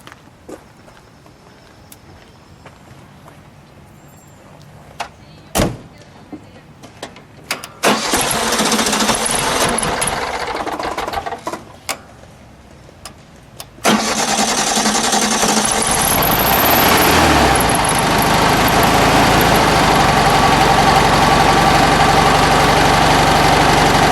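A 1965 Volkswagen Beetle engine is fired up after scattered clicks and knocks. It catches with a rough clatter, drops back, then starts again and settles into a loud, steady idle nearby.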